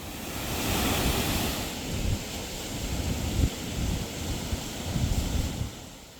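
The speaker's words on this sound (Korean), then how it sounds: "이렇게 빙하가 집중적으로 녹는 시기에는 수량이 풍부해져 지금 보이는 것처럼 거센 물줄기가 떨어진다고 합니다." Heavy water rushes and roars down a glacier-fed waterfall in the Alps, swollen with meltwater, a steady broadband thunder with gusty wind buffeting the mic, no voices.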